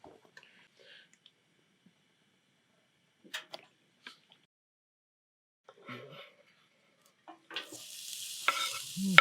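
Olive oil in a frying pan breaks into a sizzle near the end, preceded by scattered clinks and small kitchen noises over near-silence.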